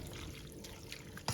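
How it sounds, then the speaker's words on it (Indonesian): Sugar syrup made from granulated sugar dissolved in water being poured into a drink mixture, a short, quiet liquid trickle and splash that ends with a small clink. "Kemudian tambahkan juga larutan gula."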